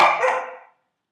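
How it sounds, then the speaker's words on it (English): A dog barks in the background, one loud bark that fades out quickly, followed by silence. "that's my dog in the background"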